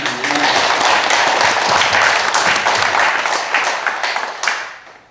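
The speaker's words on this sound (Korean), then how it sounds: "박수 한번 칩시다." A church congregation at a thanksgiving service bursts into loud, sustained applause, a thick wash of clapping that holds steady for several seconds and then tapers off quickly at the end.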